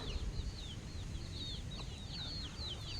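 Young chickens suffering from fowl pox give faint, rapid, repeated high peeps and soft clucks over a steady low background hum, with no talking.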